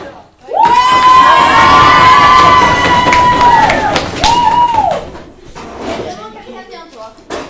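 A class of children in a school film cheers and shouts loudly as a crowd, then the noise fades into scattered voices and claps toward the end.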